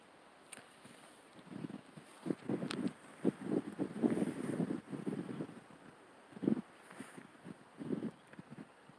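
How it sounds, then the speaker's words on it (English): Strong storm wind gusting across an open area, a rough, uneven rushing and buffeting that surges in bursts against a steady faint hiss. "The wind is kicking up a lot."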